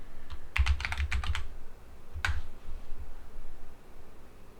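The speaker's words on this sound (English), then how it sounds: "maybe I have to type in like female knight" Close, quick bursts of typing on a computer keyboard, a cluster of clicky keystrokes followed by a short pause and a second small burst, in a quiet room.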